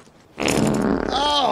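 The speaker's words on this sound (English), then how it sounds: "We have farting camels!" A camel breaking wind in the film Kangaroo Jack, one long, loud, buzzing blast that wavers in pitch and carries on to the end.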